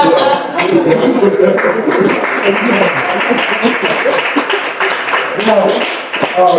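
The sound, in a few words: audience clapping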